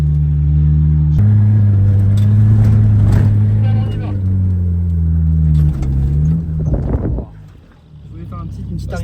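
Peugeot 206 WRC rally car in the Moroccan desert, its engine idling with a deep steady drone, then revving and dropping away near the end, heard close with people talking over it.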